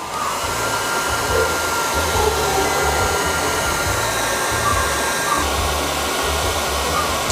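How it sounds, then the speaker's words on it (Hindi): A hair dryer blows steadily onto wood charcoal to light a barbecue, a loud continuous whooshing roar with a low pulsing motor hum, unbroken for several seconds and with no voices. "इसको रख के हेयर ड्रायर का इस्तेमाल कीजिए।"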